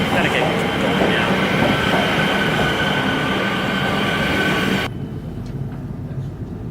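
A train rumbles loudly into a station with rolling wheel noise and a faint squeal, then the roar cuts down abruptly to a lower hum.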